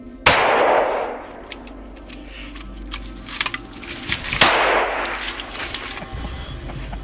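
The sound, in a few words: gunshots fired by hunters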